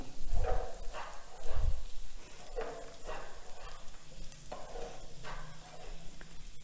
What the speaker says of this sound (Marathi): पुन्हा एकसारखं मस्त हलवून घ्यायचं आहे